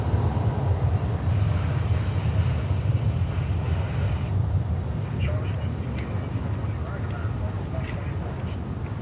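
Airplane engines roar at DFW Airport in a steady, fairly loud low drone that eases slightly over time, with scattered faint background sounds.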